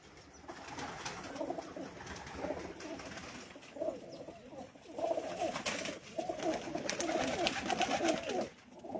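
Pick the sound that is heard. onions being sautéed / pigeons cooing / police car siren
pigeons cooing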